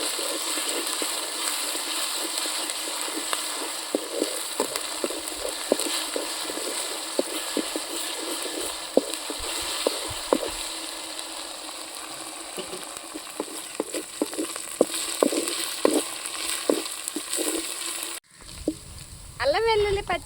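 Ginger garlic paste fries in a pan for a chicken curry with tamarind leaves, giving a steady, close sizzle with scattered scraping stir clicks. It cuts to a quieter, softer passage near the end.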